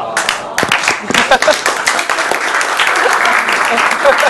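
Loud applause from a television quiz show studio audience, a dense burst of clapping that swells quickly and holds steady, with some voices mixed in.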